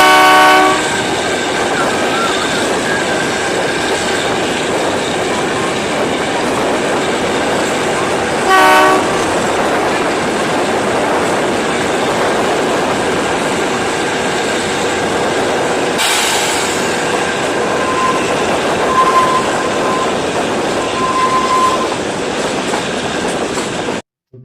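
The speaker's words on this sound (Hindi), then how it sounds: "तो ट्रेन देख रहे हो आप किस तरीके से जा रही है, इस तरीके से घूम रही है" A train runs steadily along the track, a continuous loud rumble with rail clatter throughout, a brief horn-like tonal burst near the middle and a few faint tonal whistles later, with no voices.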